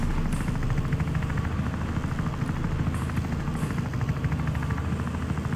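A police helicopter in the video game Wobbly Life gives a steady, close rotor thrum with a constant buzzing drone throughout, no talking.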